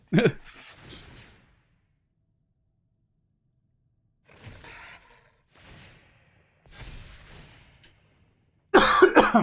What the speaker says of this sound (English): Sorry about the coughing, I don't have my drink with me.